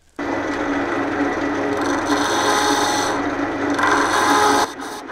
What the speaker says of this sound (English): I'm just going to start to true up this outside a little bit, and for that I'm going to use my Ashley Isles 12mm spindle gouge